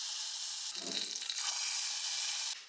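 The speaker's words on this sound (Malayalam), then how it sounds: "നമുക്ക് വെളിച്ചെണ്ണയിൽ കടുകും വാറ്റൽമുളകും അത് താളി ചേർക്കാം" Mustard seeds and dried chillies sizzling in hot coconut oil for tempering, a close, bright, steady hiss with a brief crackling surge partway through before it cuts off.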